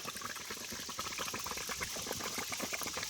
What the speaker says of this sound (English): Looks to me like the waters are coming on in.